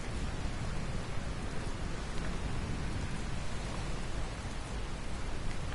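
Steady, dense rain in the video game Dragon Quest Builders 2, a loud continuous hiss of falling water with no pauses, heard alone without voices.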